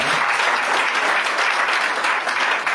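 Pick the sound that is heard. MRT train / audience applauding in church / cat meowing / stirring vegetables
audience applauding in church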